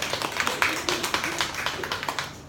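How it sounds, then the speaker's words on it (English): Seminar audience applauding briefly, a thin patter of scattered claps from a modest crowd with a voice audible over it. "let's give all of yourselves a round of applause"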